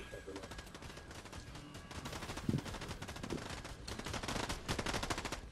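Gunfire in Fortnite, rapid crackling bursts of automatic fire that build toward the end with a few heavier thumps mixed in, fairly faint and distant, and a voice speaks now and then beneath it.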